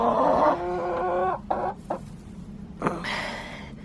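Newly introduced hens cluck and squawk while sorting out their pecking order in a garden coop, with a drawn-out call followed by short sharp clucks, close by.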